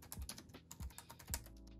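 Typing on a portable Bluetooth keyboard for an iPad, styled like the Apple Magic Keyboard, gives quiet, close, irregular key taps with a few heavier strokes and no talk.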